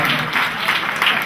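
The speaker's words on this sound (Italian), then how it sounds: "io proporrei un altro applauso" An audience at a literature festival in Giulianova gives a loud, sustained round of applause, a thick wash of many hands clapping without pause.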